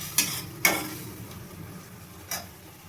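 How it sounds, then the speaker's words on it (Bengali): Spice paste for an egg curry is fried and stirred in a pan, a faint low sizzle broken by three sharp spatula scrapes against the metal, no talking. "এটা দিয়ে আবার মশলাটাকে আমি ভালোভাবে কষিয়ে নেব"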